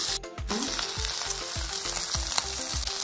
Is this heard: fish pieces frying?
yes